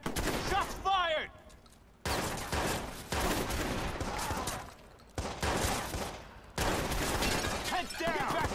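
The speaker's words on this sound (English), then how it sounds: "Shots fired." Bursts of rapid gunfire crackle through a video game battle, repeated volleys broken by short gaps, with voices shouting over some of them.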